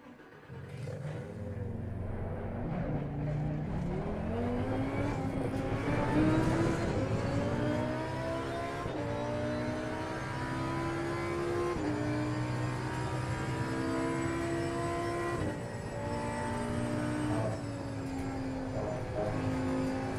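Race car engine in Assetto Corsa Competizione, a continuous loud drone that rises in pitch through each gear and drops sharply at every shift, repeating for the whole stretch with no voices.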